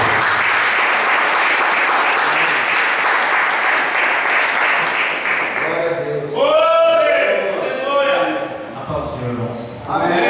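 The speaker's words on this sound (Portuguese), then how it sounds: "Uma linda salva de palmas para ele." A church congregation applauds the pastor at an evening service, loud steady clapping for about six seconds that gives way to a voice speaking over fading applause.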